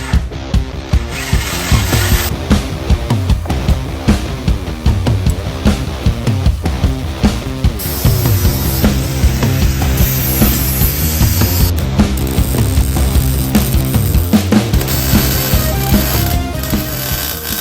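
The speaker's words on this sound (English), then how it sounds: "so we're going to drill the holes" A power drill bores holes into a go-kart frame for rubber washers, a loud continuous whirring that shifts pitch as the bit bites into the metal, with brief stops between holes.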